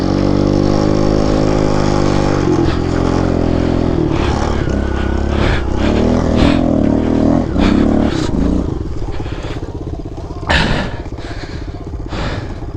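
A 2003 Kawasaki KLX 110 pit bike set up as a snow bike revs hard up close, its engine pitch climbing and shifting, with clattering and scraping as it rides and then winds down.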